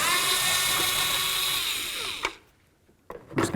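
A power tool whirs loudly and steadily while removing a tail light mounting bolt on a 2008-2013 Nissan Rogue, then stops abruptly, followed by a quiet pause and a couple of short clatters.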